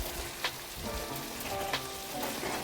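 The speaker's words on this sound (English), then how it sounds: "So I'm going to give this a quick little stir." Potatoes fry in a pot with a constant crackling sizzle, punctuated by a few short scrapes as they are stirred.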